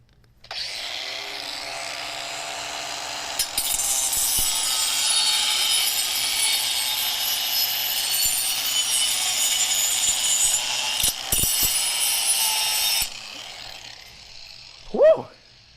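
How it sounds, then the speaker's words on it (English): An angle grinder cuts a thin steel plate held between a man's teeth, inches from his face. The cutting makes a loud, harsh, continuous screech that lasts about twelve seconds and then stops abruptly, followed by a brief vocal sound. "We're gonna run this grinder."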